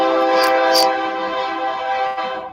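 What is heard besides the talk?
train passing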